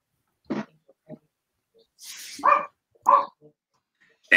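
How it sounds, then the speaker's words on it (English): A small dog barks a few times in the background in short, sharp yaps spaced apart, with a brief hiss between them and no one talking. "Can you hear the dog in the background?"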